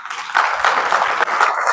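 An audience at a live hacker community event claps in a brief, dense burst, a fairly loud patter of many hands close by, with no speech over it.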